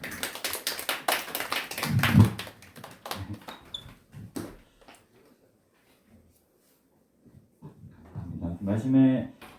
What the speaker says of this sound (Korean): 우리 광고해주신 학종 형제한테 박수 한번 부탁드립니다